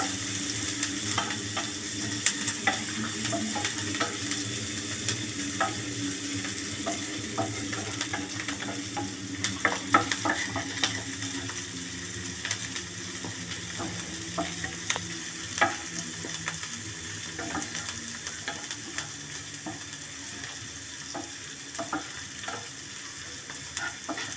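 Onions sauté in a pan with cumin and asafoetida, giving a continuous gentle sizzle punctuated by occasional spatula stirs and scrapes, with no talking.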